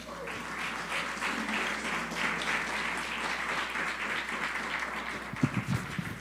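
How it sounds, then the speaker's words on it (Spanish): An audience at a business gathering applauds to welcome a speaker, giving sustained, fairly loud clapping with a steady texture, followed by a few louder thumps and noises near the end. "¿Qué tal si lo recibimos con un fuerte aplauso?"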